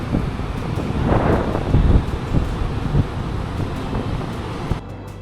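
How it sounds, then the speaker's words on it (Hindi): Cool monsoon wind blows steadily at Chapora Fort in Goa, a loud, continuous roar buffeting the microphone that swells and eases before cutting off near the end. "मस्त ठंडी ठंडी हवा चल रही है।"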